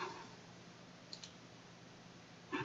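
Faint computer mouse clicks while working in ANSYS meshing software, a soft double click near the middle and another brief click at the end, quiet over a low steady hum.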